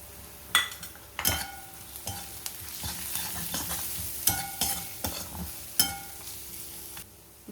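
Spice masala of coriander powder, turmeric, cumin powder, amchur and garam masala frying for stuffed bitter gourds, a soft sizzle broken by sharp, irregular scrapes and taps of the spoon against the pan, close and without talk.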